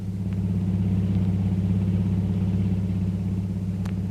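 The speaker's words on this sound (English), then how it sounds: "a long, powerful car twists its way through the winding streets of Singapore's waterfront" A long, powerful car winds through the streets of Singapore's waterfront, its engine giving a steady, deep rumble that holds even and close throughout, with no voices.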